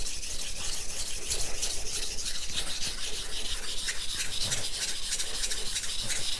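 Knife blade stroked across a Sharp Pebble whetstone, a steady rhythmic gritty rasping of repeated close strokes, fairly loud and continuous with no talking.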